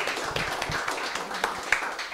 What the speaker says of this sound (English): So let's have a big round of applause for Annie and Dan Eastmond.